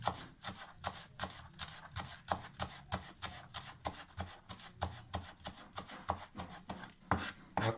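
A knife chops fresh coriander into small pieces for a sweet chilli tamarind salsa, a brisk, steady run of close, crisp cuts against a board with no talking.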